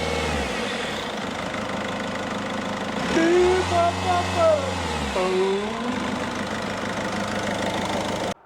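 A Citroen Berlingo engine runs steadily at idle, a continuous mid-low drone with a faint knocking edge. A clear tonal sweep rises and falls partway through as a voice speaks over the engine.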